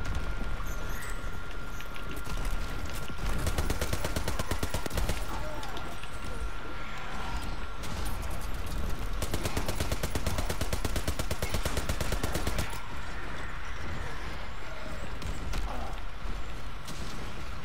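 Sustained gunfire in the zombie mode of Call of Duty: WWII, rapid automatic bursts and shots running nearly continuously and loudly through the whole stretch under frantic game noise, with players talking over it.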